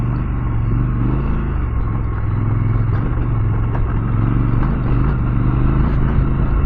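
Triumph Scrambler 1200 XE motorcycle riding off-road over rocky ground, its engine a loud, steady low rumble with clattering and wind noise, close and continuous.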